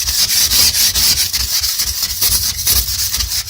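A scraper rasps rhythmically over icy window glass during a blizzard, with close, loud, gritty strokes repeating in quick succession.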